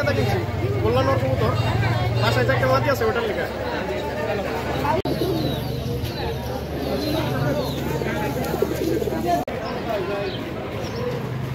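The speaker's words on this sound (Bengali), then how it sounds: "অরিজিনাল গোল্লা কবুতর" Golla pigeons coo repeatedly at a busy pigeon market at Ruhitpur, with soft rhythmic cooing under constant crowd chatter and nearby talking.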